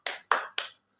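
A primary school class does a rhythmic spirit clap, three sharp, evenly spaced claps in quick succession followed by the start of a fourth, close and crisp with no talking.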